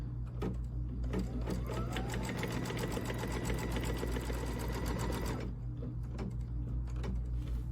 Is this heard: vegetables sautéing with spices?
no